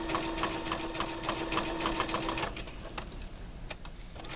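A sewing machine stitches a vinyl coin purse, running in a steady fast needle rhythm that is close and loud. The motor whirs evenly and then slows toward the end, with no speech.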